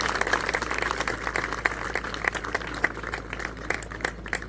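An audience claps for a three-year-old girl gymnast, a dense patter of many hands sustained throughout, fairly close and moderately loud, with no clear talking over it.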